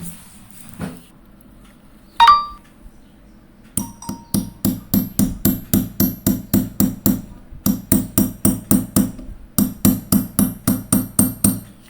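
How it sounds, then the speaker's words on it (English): Injector seal on a Mitsubishi GDI engine being driven in with a 1/4 inch extension socket: two isolated knocks, then long runs of quick, even metallic taps in several bursts, close and crisp in a quiet workshop. "you just drive them in with a 1/4 inch extension socket"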